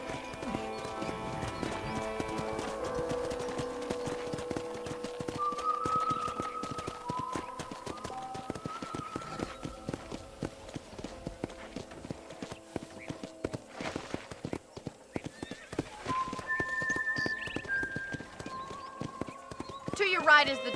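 Rhythmic horse hoofbeats clip-clop continuously under Red Dead Redemption game music with tonal melodies, while voices talk intermittently over the trotting.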